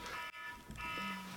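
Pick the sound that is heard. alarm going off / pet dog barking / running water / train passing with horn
alarm going off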